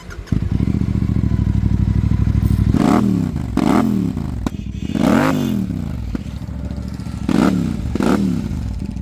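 A Royal Enfield Super Meteor 650 fitted with a Rhino Racing exhaust fires up after a steady cranking whir, then settles into a loud, close, throaty idle punctuated by four or five sharp blips of the throttle, with no talking.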